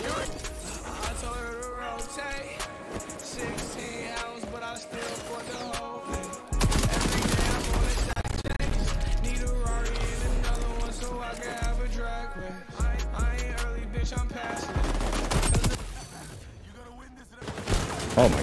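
Sustained gunfire in the shooter XDefiant: dense, continuous bursts of automatic shots layered over game music and effects, with loud stretches broken by brief lulls and talk mixed in.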